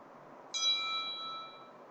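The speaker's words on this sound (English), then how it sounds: "Why are you ringing my doorbell so early in the morning?" A doorbell chimes once in the early morning, a clean ringing tone that starts abruptly and slowly fades over about a second against a quiet background.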